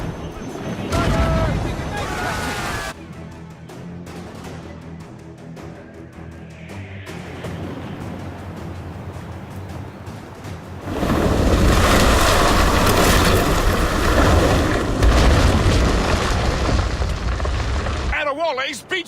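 Naval battle in Assassin's Creed Rogue, with ship cannon fire and booming explosions over crashing waves and wind, growing louder and denser in the second half as people shout commands.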